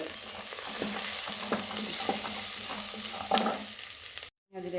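Onions fry in a pan as slit green chillies go in for a chicken fry, a steady close sizzle broken by scraping stirs, with a short silence near the end.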